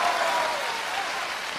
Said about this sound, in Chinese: 雷鸣般的掌声